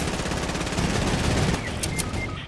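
Sniper rifle fire in a chaotic video game firefight, a dense continuous wash of loud gunfire and blasts with sharp high-pitched pings near the end.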